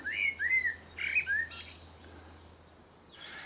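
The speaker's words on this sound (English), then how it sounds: "I've been sitting listening to this blackbird for the last 5 minutes." Clear, fairly close blackbird song in a summer garden: several quick whistled and warbled notes in the first two seconds, then a fading trill over a low background hum.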